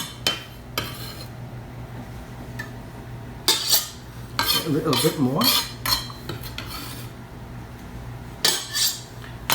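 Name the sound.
mixing meatball ingredients in bowl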